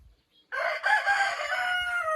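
A chicken gives a short, loud call up close, a rising and trailing squawk that sounds close to a crow.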